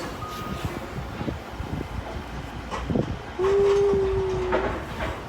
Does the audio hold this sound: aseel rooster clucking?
no